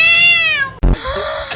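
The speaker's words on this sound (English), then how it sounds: "I told you it was a little kitty." A kitten gives one long, loud, close meow that slides downward, then a short bump and a softer second meow, with no voices.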